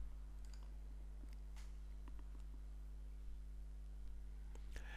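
Several sharp, quiet computer mouse clicks land at irregular moments over a steady electrical hum, with no talk.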